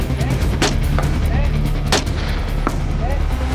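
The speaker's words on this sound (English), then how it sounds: "Well, it's smooth, good trigger pull. It's just a great rifle." Several loud, sharp rifle shots crack at an outdoor shooting range, spaced about a second apart over steady wind and low background rumble.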